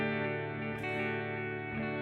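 Sustained guitar tone processed through an analog-modelled echo effect on an iPad app, ringing harmonics with a faint repeated attack near the middle, balanced dry signal and echo, quiet and alone.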